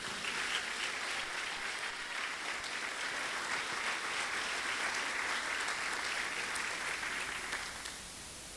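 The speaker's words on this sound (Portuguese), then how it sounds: "Dá um aplauso a Jesus" A church congregation claps steadily for about eight seconds, dense and sustained, fading slightly at the end.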